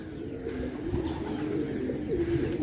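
Pigeons cooing in a cage, with soft, repeated, throaty coos close by over a steady low background murmur.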